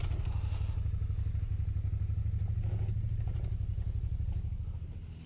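A Suzuki V-Strom motorcycle rides slowly back down a rocky off-road track, its engine putting out a low, steady pulsing thrum up close, with occasional clatters and thumps from the rocks underneath.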